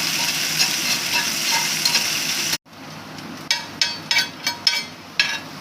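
Vegetables sautéed in oil in a kadai until pale green give a steady close sizzle, then after a brief cut a series of sharp stirring scrapes and clinks over softer frying.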